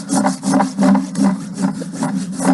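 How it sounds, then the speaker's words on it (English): The smooth side of a farrier's rasp works over a horse's hoof at a ranch trim, giving regular scraping strokes about twice a second, loud and close, with no talking. "I'll finish this foot off with my smoother side of my rasp"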